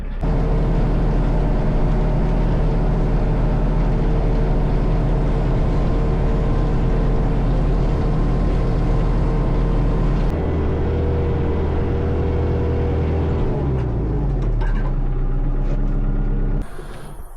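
A tractor engine running steadily as heard from inside the cab during a snowstorm, a loud low drone that shifts pitch near the end before cutting off abruptly.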